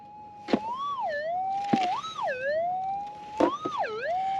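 A metal detector's warbling target signal tone sweeps up and down in repeated wavy phrases while hunting meteorites in Arizona, punctuated by sharp clicks, fairly loud and close with no talking.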